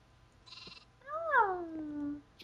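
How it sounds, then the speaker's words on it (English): A baby sheep bleats once in a long, wavering cry close by, following a brief burst of scratchy noise. "Oh no, the baby sheep."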